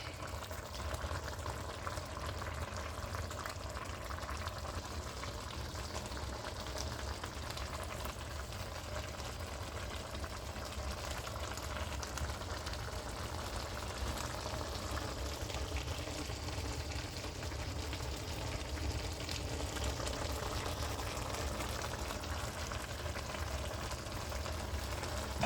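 A pumpkin seed and beef sauce simmering in a pot, a continuous low bubbling and burbling that stays steady at moderate volume with no voices.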